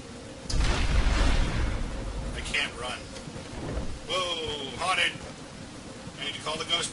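Rain pours down a long corridor in the video game Batman Arkham Asylum, a steady wash with rumbling low bursts like thunder early on, joined later by scattered voices and sharp effects.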